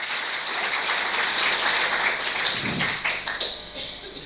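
An audience at an art exhibition opening claps in sustained, moderately loud applause with a few sharper individual claps near the end.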